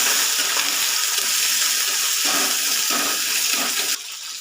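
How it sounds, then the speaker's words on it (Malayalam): Sliced okra frying lightly in hot oil, a dense continuous hissing sizzle close by that drops abruptly to a quieter hiss near the end, with no talking. "ലൈറ്റായിട്ടൊന്ന് വറുത്തെടുക്കാൻ വേണ്ടിയിട്ടാണ്."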